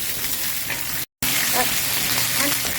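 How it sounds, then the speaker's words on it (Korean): Garlic scapes stir-frying in hot scallion oil, a steady close sizzle and crackle broken by a brief cut, then resuming with faint stirring. "잠시 볶아줄게요"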